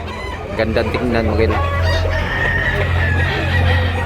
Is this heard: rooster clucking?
yes